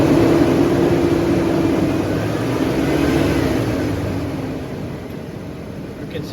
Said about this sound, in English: if my lab assistant would go step on the throttle